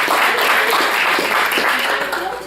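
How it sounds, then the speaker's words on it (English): An audience at a historical society meeting applauds, a close, dense patter of clapping that holds steady and begins to thin toward the end. "Another round of applause here today."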